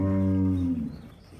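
A Sahiwal cross dairy cow in her second calving gives a single loud, close, low moo that holds steady and then tapers off and fades, with no talking.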